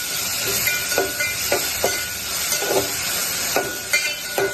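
Onions sautéing in a pan for chicken biryani give a continuous hissing sizzle, punctuated by regular scraping stirs roughly every half second, with no talking.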